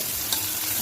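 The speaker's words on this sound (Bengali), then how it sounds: "দিয়ে ভালো করে লাল লাল করে পেঁয়াজটাকে ভেজে নেব।" Chopped onions with a little salt frying in a pan, a brief, steady close-up sizzle with no talking.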